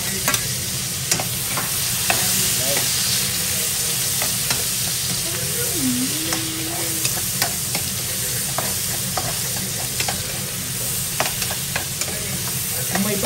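Tomato and onion sizzle in a hot pan for sweet and sour fish, giving a loud, close, continuous crackle with brief stirring scrapes throughout.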